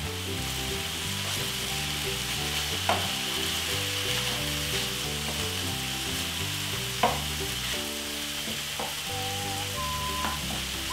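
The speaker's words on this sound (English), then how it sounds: "we actually just want to brown it on the outside and not com completely overcook it" Beef for shepherd's pie browns in a pan with a steady, even sizzle, punctuated by a few sharp utensil clicks, while background music plays softly underneath.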